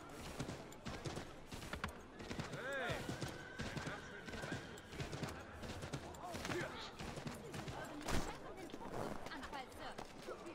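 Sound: horse hooves and whinny in the video game Assassin's Creed 3 Remastered

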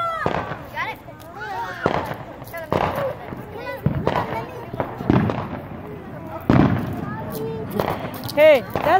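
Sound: fireworks exploding on the Fourth of July

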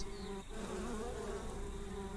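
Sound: bees buzzing in video game Spirit Legends

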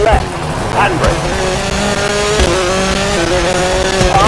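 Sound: rally car engine and tires in WRC 4 video game

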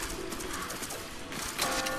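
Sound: birds in the video game Tokyo Jungle

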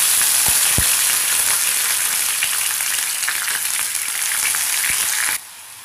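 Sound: onion paste frying in oil

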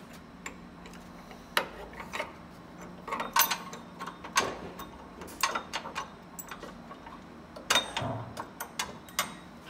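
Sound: bolt being screwed in during Dodge Ram body lift

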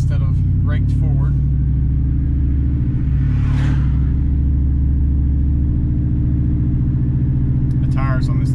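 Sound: lifted truck driving on a rough ride

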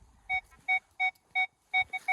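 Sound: metal detector signal tone

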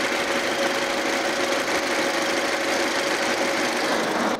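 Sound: Audi A6 2.0 TFSI engine running

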